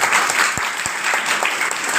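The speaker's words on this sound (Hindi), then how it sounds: "एक बार विपिन जी के लिए जोरदार ताली।" An audience bursts into loud, dense applause for a participant named Vipin at a Hindi-language business seminar, a full roomful of hands clapping close and steady for about two seconds, with a couple of sharper low thumps near the start.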